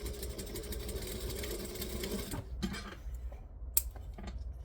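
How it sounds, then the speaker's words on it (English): A sewing machine back stitching a bag seam runs in a steady, dense mechanical whir for a few seconds, then stops and gives way to soft handling clicks and fabric noise. "You want to back stitch well so it won't come undone."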